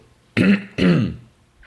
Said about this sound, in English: No, I'm trying to clear my throat.